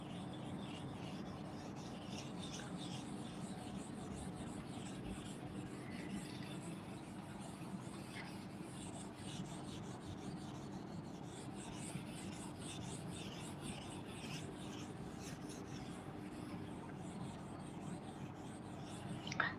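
Steady dry rubbing of an eraser or duster wiping writing off a board during an English class, a continuous soft scraping texture that runs without break throughout, close and moderately quiet.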